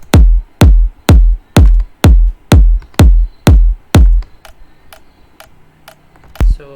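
A punchy electronic kick in a future house / electro house style hits eight times at a steady rhythm with a sharp clicky attack from a percussive layer on top, then stops, leaving a quieter tail and one final hit.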